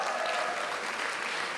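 A festival crowd at a 2023 performance cheers and applauds for a performer, a dense, steady wash of clapping and shouting that carries on loudly throughout.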